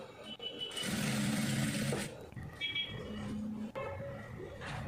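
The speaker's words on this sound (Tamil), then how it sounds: "இப்போ டபுள் ஃபோல்டில் அப்படியே நம்ம வந்து தையல் போட்டுக்கலாம்." A sewing machine stitches a double-folded hem on a chudidar, running in a steady mechanical whir for about a second, pausing, then running again in shorter bursts, close and clear.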